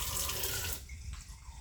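A tap runs with a steady rushing stream while filling water for backyard chickens in hot weather, then the flow cuts back to a quieter, thinner trickle.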